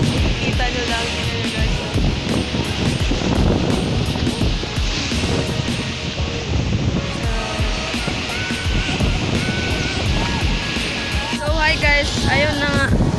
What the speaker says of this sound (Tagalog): Grabe ang lakas ng alon dito.